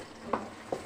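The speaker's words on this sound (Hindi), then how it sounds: "मिक्स करेंगे इसको" A spoon stirs garlic and ginger paste with garam masala, cinnamon, cloves, black cardamom and bay leaf in a hot pan. A steady low sizzle runs under two brief scraping strokes.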